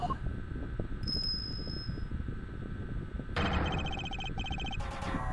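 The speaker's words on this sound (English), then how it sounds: "Is that a bell?" A bright electronic bell tone rings in the Ace Attorney Investigations video game, first as a sustained ring, then as rapid repeated trilling chimes near the end over a low background rumble.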